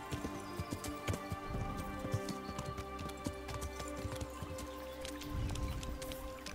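Horse hooves clip-clopping at speed in the video game Kingdom Come Deliverance, a steady run of hoofbeats over a dense bed of ambient game sound and tonal hum, fairly quiet with no speech.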